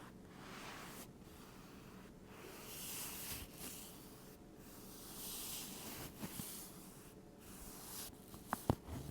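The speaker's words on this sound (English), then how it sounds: "That's where the paper is, the tag makes a different sound." A paper tag on a pillow is rubbed up close, giving soft, rhythmic crinkling and rustling swishes that swell and fade in repeated strokes, quiet and alone.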